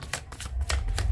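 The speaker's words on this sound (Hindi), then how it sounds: "ठीक है, सिंगल शफल कर दूँ." A deck of playing cards is riffled in a single quick shuffle, close and fairly loud, with rapid fluttering bursts over a low rumble.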